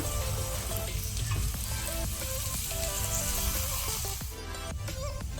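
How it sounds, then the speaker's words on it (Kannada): Onions fry in a pan for a Kannada chicken and bottle gourd masala, giving a steady, close sizzle with occasional stirring scrapes and crackles throughout. "ಈರುಳ್ಳಿನ ಈಗ ಫ್ರೈ ಮಾಡ್ಕೊಳ್ಳೋಣ."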